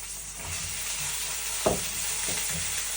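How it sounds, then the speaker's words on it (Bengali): Sizzling of beans and potatoes frying in hot oil in a pan, a steady close hiss with a couple of brief stirring scrapes, no talk. "একটুখানি সিম আর একটুখানি আলু এখন এটা দিয়ে ভেজে নিব একটু"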